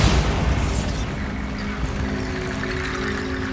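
A loud, deep booming explosion from the Bombarda spell in Hogwarts Legacy, its broad rumble spreading and slowly decaying across a few seconds.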